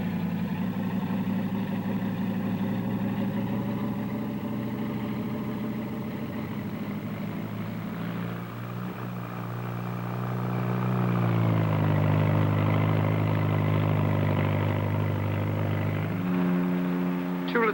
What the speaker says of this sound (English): The Bristol 192, shown here landing, and as it lands, one engine is blanked off.